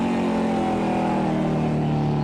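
A steady, loud super late model race car engine drone with strong low harmonics on the Oxford track, held at constant throttle without revving up or down.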